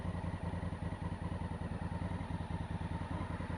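A Honda CRF1000L Africa Twin motorcycle idling, a steady low throbbing engine rumble with even mechanical pulses, faint and continuous with no voices.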